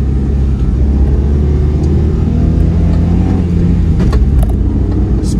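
Engine of a Honda Acty Van, a four-wheel-drive mid-engine kei van with a five-speed manual, heard from inside the cabin as a loud, continuous low rumble while it revs and pulls.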